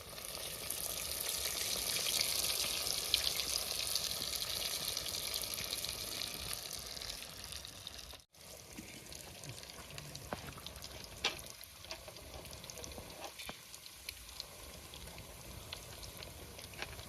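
Dal bati dough balls dropped into hot oil, a steady bright sizzle of frying that is loudest early, then settles into quieter bubbling with scattered pops and crackles, no talking.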